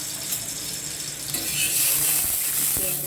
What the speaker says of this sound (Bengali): কড়াই চাটুতে তেল দিচ্ছি